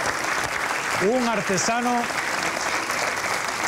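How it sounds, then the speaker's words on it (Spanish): Strong applause for a Canarian knife-making artisan at a Canarian parranda, a dense continuous clapping throughout, with someone briefly speaking over it. "Vamos a darle un fuerte aplauso a Belio Acosta Castañeda"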